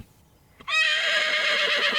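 A horse lets out one loud, close whinny that starts abruptly after a quiet moment and carries on, shaking, to the end.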